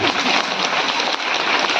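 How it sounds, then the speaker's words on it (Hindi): Dense, loud applause from a crowd gathered at a mountain temple to the goddess, a steady wash of clapping that fills the whole stretch without a break. "जोरदार तालियां बजाएंगे"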